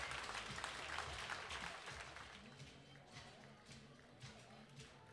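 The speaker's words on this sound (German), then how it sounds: "Ja, der Applaus, der muss nicht nachlassen." A stadium crowd applauds at a decathlon long jump, a broad wash of clapping heard from a distance and fairly faint, with a commentator's voice speaking over it throughout.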